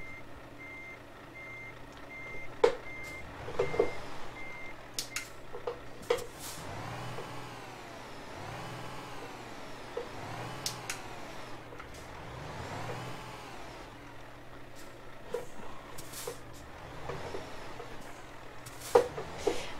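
A Volvo FH Sleeper truck heard from outside in Euro Truck Simulator 2, with a steady engine hum and repeated reversing beeps, plus swelling engine revs rising and falling several times.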